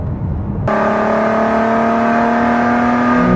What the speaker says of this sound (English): I'm driving now with the S-type exhaust installed